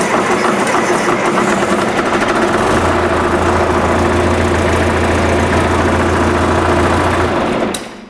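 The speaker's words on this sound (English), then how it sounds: "So let me start this tractor up and I'll show you what's happening when I try to start it." John Deere tractor engine with a fuel system and injector problem cranking over and catching, then running in a loud, close, steady idle with a rough knocking beat before shutting off.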